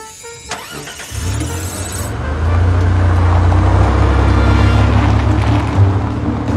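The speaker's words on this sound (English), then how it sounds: "I'm starting the car." A car engine cranks and catches, then settles into a steady, loud idle rumble close by, continuing without talk.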